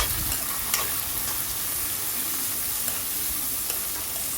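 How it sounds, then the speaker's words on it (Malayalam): Chopped onions sizzle in a pan while a spoon stirs them, a dense, even frying hiss with soft scraping strokes throughout, close and continuous, without any talking. "ഇനി ഇതിലേക്ക് നമ്മൾ നേരത്തെ അരിഞ്ഞു വെച്ച സവോള ചേർത്ത് കൊടുക്കാം. അതൊന്ന് നമുക്കൊന്ന് ഇളക്കി കൊടുക്കാം."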